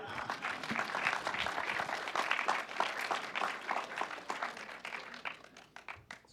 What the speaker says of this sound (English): Some people like to applaud at this point.